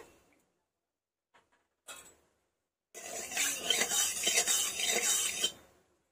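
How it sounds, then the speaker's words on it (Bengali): Mustard oil poured into a hot wok (kadai): after a quiet moment with a couple of faint knocks, a loud, close, bright hiss and sizzle bursts out and holds for a few seconds before dying away. "কড়াটা গরম হয়ে গেছে, এবার এর মধ্যে দিয়ে দিচ্ছি সর্ষের তেল"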